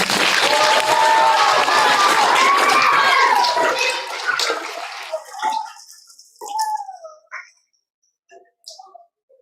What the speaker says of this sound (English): giving a huge round of applause to the adults in the room who have helped you on your journey